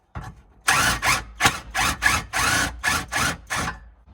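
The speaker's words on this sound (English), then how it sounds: "I'll take my 14mm socket and I will tighten those up here." Nuts being tightened with a 14mm socket while fitting a spare tire assembly under a 2021-2025 Toyota Sienna, heard as about eight close, loud bursts of ratcheting and driving in a steady rhythm with no talk.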